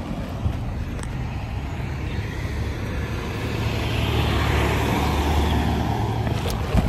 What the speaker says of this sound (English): Cars are so mean, they don't be letting me go.